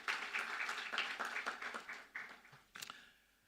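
A lecture audience gives a round of applause for a customs house agents' representative, quiet scattered clapping from a modest group that thins out and fades to a few last claps.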